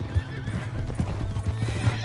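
A horse in Red Dead Redemption gallops with quick clip-clop hoofbeats and lets out a whinny, loud and close, with game ambience underneath.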